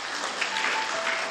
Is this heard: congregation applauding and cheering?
yes